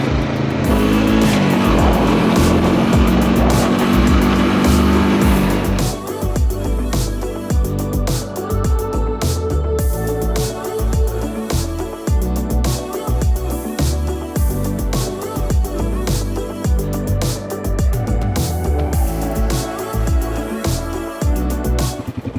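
A brand new side-by-side UTV engine drones and revs continuously under load while riding, loud and close, with shifting pitch, bumps and rattles from the vehicle over the terrain.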